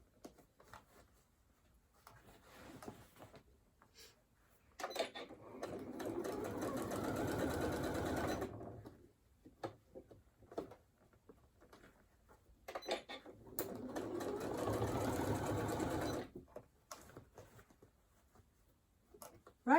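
A sewing machine stitches continuously around a trouser leg of fabric in two steady runs of several seconds each, separated by quiet pauses with small handling sounds.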